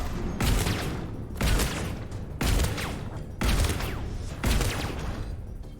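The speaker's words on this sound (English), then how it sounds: "let's go swap over to shotgun" Five loud shotgun blasts from Mass Effect 3 fire at a steady pace about a second apart, each one a broad booming crack with a short decaying tail, used against a mech enemy with disruptor ammo.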